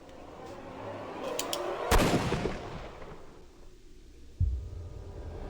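Gunshots in the Sherlock Holmes: Crimes and Punishments video game, one sharp loud report followed a few seconds later by a second heavy boom, over a low ambient hum.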